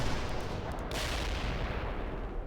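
Weapons firing in the World in Conflict battle game, a heavy dense roar of gunfire and artillery blasts filling the stretch, loud and continuous.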